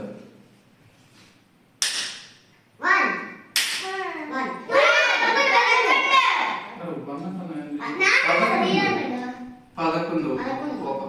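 Children clap their hands to count numbers in a digital school lesson, giving a few sharp separate claps between stretches of children's speaking and chanting voices.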